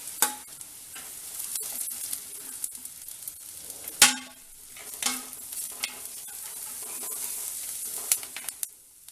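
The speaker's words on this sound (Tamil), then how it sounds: "கொடமிளகாய், இதுவும் நல்லா வதங்கட்டும்" Capsicum, carrot and curry leaves sauté in a pan for garlic vegetable fried rice. A soft sizzle runs under repeated spatula scrapes and taps, with a few sharper knocks.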